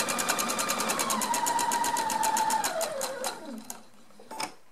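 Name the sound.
sewing machine stitching a patchwork table runner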